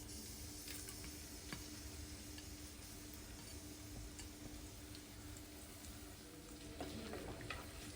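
Ginger and crushed garlic sautéing in a pan for Kerala-style spicy beef roast, a quiet, even sizzle that runs throughout with a few faint stirring scrapes near the end.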